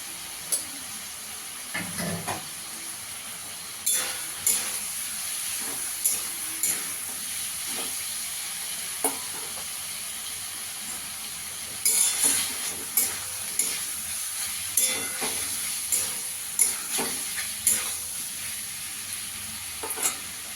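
Ground turmeric, cumin and Kashmiri chilli spices sauté in a pan for a tengra fish curry, with a continuous sizzling hiss broken by repeated scraping knocks of stirring.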